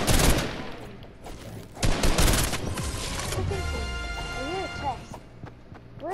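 Fortnite gunfire crackles in dense rapid bursts early on, then in scattered shots, loud and close, with other game effects and a player talking over it.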